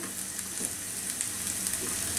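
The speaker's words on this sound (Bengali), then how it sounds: "এখন আস্ত জিরা দিয়ে একটু ভেজে নিব।" Chopped onion and garlic sizzle with whole cumin seeds in a hot pan for a spinach and black gram dal, with a close, steady crackling hiss and faint stirring.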